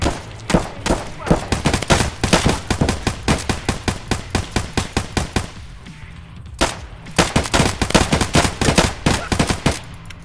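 Sustained rapid automatic gunfire in Escape From Tarkov, loud, close bursts of rattling shots that pause briefly and then resume.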